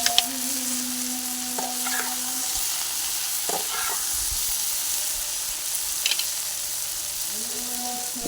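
Food sizzles and fries in a pan while a spoon stirs in salt and turmeric powder, a steady soft hiss with occasional scraping strokes, close and alone with no talk.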